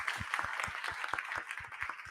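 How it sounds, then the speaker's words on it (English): An audience claps for a catering team at an international meeting, a steady patter of hand claps with a few sharper individual hits over a continuous crowd murmur. "I'm not sure if they're aware of the fact that we're clapping to them"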